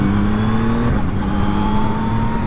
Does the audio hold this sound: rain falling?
no